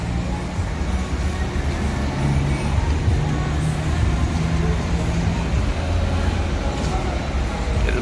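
A Jetbus HD coach bus idles at a bus terminal in Palembang, its steady low engine rumble continuing throughout the clip, with a busy ambient background.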